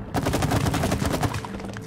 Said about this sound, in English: Oh, we blew up the locks, okay.